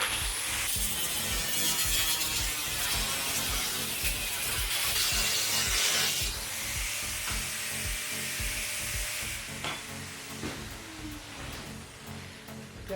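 An angle grinder cuts sheet metal for a small wood-burning stove, giving a loud sustained abrasive rasp with rhythmic pulsing that fades and roughens toward the end. No talking.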